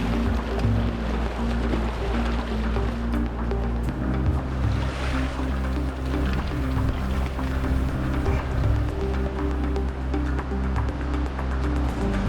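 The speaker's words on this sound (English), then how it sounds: "Look at these beautiful waterfalls." A steady, loud roar of rushing water from waterfalls on a Michigan river, continuous and broadband throughout with some wind noise on the microphone and no talk.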